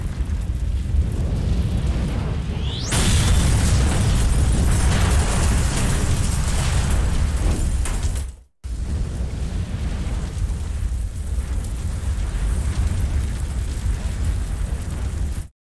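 A sustained, loud roaring explosion in Resident Evil Outbreak swells after a short lead-in, rumbles on for several seconds, cuts out briefly, then continues as a steady low roar.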